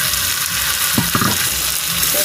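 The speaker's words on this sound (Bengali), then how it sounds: "এবার চালটা একটু ভাজা ভাজা করবো মশলার সঙ্গে।" Gobindobhog rice frying with cooked-down spices and oil in a pan, a loud steady sizzle with a few soft stirring scrapes around the middle, no voices.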